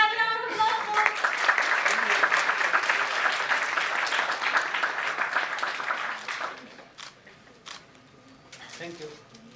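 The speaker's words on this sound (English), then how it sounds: "Let's have a round of applause for." A tech conference audience at a DevFest AI/ML session applauds for about six seconds, a dense wash of many hands that thins out into a few scattered claps.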